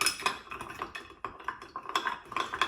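A bar spoon stirs ice in a cocktail glass for an Old-Fashioned, giving close, quiet, rapid clinks and rattles in an uneven stream with brief pauses.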